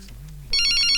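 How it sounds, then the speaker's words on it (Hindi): A telephone bursts into a loud, bright electronic ring partway through, close and clear after a brief low hum. "फोन आया।"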